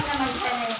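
Heavy rain pours down in a dense, steady hiss of drops striking hard surfaces, continuous and close.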